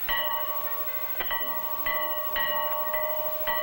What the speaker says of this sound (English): When the dinner bell rings, no one has to call the girls twice.